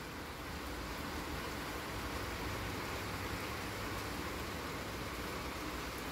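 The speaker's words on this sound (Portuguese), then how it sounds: "Começou a chover." Steady rain falls outdoors on a Sunday, a continuous even hiss of drops with no individual sounds standing out and no talking over it.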